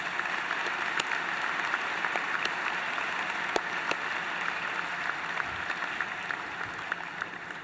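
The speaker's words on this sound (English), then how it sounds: "may I ask you to join in a round of applause for the faculty and staff who supported you in" A graduation convocation audience applauds faculty and staff, sustained, even clapping from a large hall crowd for several seconds, with a few sharper individual claps standing out.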